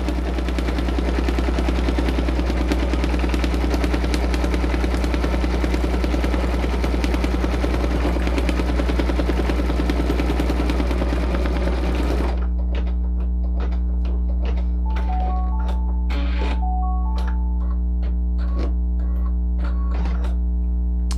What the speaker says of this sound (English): I'm just gonna let it do the tack down stitch